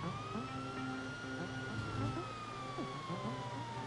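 A police car siren in the video game Grand Theft Auto Online wails in a slow rising and falling sweep, fairly faint and distant, over a low rumbling background.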